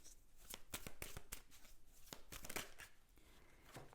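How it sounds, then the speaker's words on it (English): Tarot cards are shuffled and drawn by hand, giving a quick series of soft riffling snaps and papery flicks, close and fairly quiet, with no voices. "Let's draw some more cards"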